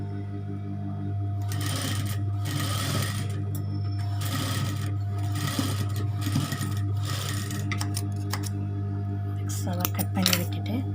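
A sewing machine stitches a girl's stylish cap in repeated short runs over a constant low hum, close and fairly loud, with light handling clicks near the end.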